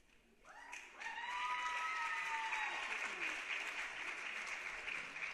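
An audience at a junior honor society induction ceremony breaks into applause, clapping swelling within a second and then holding steady, with a few voices and whoops mixed into the crowd noise.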